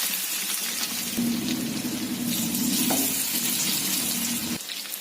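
Pieces of marinated fish frying in hot oil in a pan, a dense, steady sizzle that stays loud and close for several seconds before dropping away near the end.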